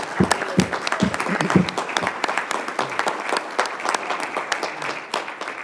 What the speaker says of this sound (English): would you join me in a round of applause and recognizing our Spirit of Yucca Valley Award winner, Marjorie Smith